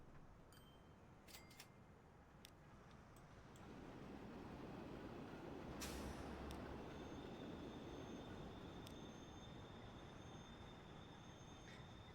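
A passenger train in the Transport Fever 2 game pulls into a station. A faint low rumble and wheel noise swell and then hold steady, with a few light clicks and a thin high whine above.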